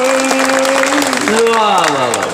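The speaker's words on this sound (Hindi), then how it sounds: "एक बार जोरदार ताली बजाइए" Audience applause at a large kavi sammelan, a poets' gathering, in Narwar Nagar Panchayat: a steady wash of clapping runs throughout while a voice speaks loudly over it.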